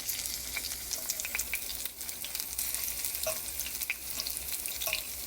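Keto onion rings frying in about half a cup of olive oil, a dense, crackling sizzle with scattered small pops and spits, close by and continuous with no talking.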